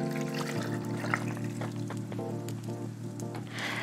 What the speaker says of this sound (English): So I'm gonna pour 2 cups into our blender.